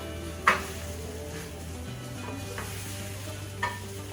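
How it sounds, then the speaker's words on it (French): Zucchini and eggplant being stirred together in a pan for a Provençal-style chicken pasta, a steady low sizzle with a few sharp utensil scrapes and clicks near the start and end, no voices. "I take the zucchini, I add them to the eggplant. I mix well."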